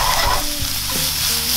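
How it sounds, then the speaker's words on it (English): Strips of bacon sizzle and crackle in a hot frying pan for a cottage cheese omelette, a steady close hiss with a brief stirring scrape, no voices. "Quickly add that bacon in. Start that cooking."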